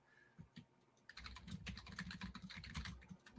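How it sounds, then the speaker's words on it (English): Fast typing on a computer keyboard, close up, with a few isolated key taps followed by a dense, continuous run of clicks, fairly quiet and with no voices. "I'm typing"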